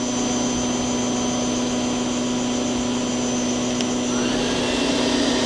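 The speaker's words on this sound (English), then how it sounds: "The spindle right now is running at 500 RPM. That's 1500." A Miyano BND34T5 CNC turning center runs its spindle at 1500 RPM, a steady, loud mechanical whine with a constant hum and machine drone, unchanging throughout and with no voices.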